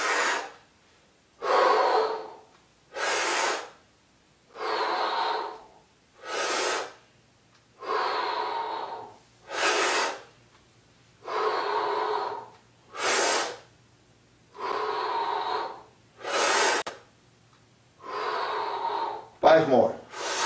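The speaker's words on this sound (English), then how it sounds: "Inhale. Exhale." Heavy rhythmic breaths during an ab workout alternate inhale and exhale about every second and a half, close and loud, with silent gaps between, ending in a brief clatter.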